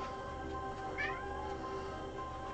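A house cat gives a single short meow at moderate distance over a steady low room hum.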